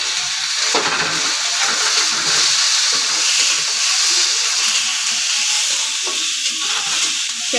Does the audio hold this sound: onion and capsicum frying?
yes